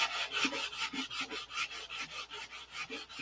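Sanding block rubbed by hand over a P-47 model airplane, giving a steady series of close, rasping back-and-forth strokes, about five per second, with no talking.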